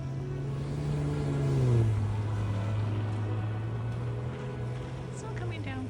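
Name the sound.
snowblower running outside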